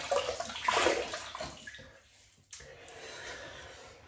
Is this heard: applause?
no